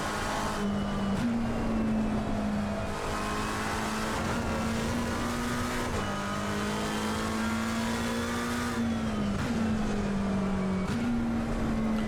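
Race car engine in the Assetto Corsa racing game, a loud continuous high-pitched drone that climbs in pitch through each gear and drops sharply at the shifts, running the whole time with no talk.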